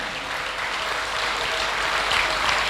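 Church congregation applauding during a sermon, dense continuous clapping from many people, steady and fairly loud throughout.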